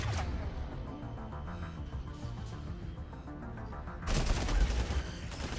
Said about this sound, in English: Watch out! Geth incoming! Well, shoot him, Tally